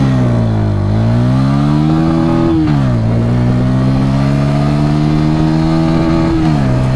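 A 2024 Bajaj Pulsar N150 motorcycle accelerating hard in first gear from a standstill, its engine note climbing steadily and loud close up, with one brief dip in pitch before it revs on.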